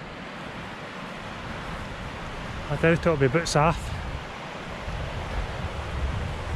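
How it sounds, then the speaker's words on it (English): Steady broadband rushing of river water at a hill-walk river crossing in the mountains, continuous throughout with wind buffeting the microphone, and a brief stretch of people talking over it partway through. "That's us at the river crossing."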